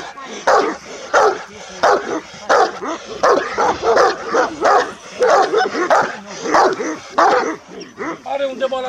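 Romanian shepherd dog, a large, broad-chested guard dog kept on a mountain farm, barking repeatedly in loud, regular bursts close by, with people talking over it.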